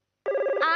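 A telephone starts ringing at home after a moment of silence, one loud, close electronic ring tone that is steady and bright, with no voices.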